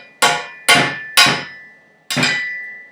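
Four sharp hammer strikes drive a bearing race into a BMX bike frame, each hit ringing with a metallic tone that decays before the next; the blows land unevenly, close and loud.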